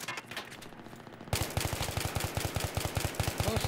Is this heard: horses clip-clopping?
no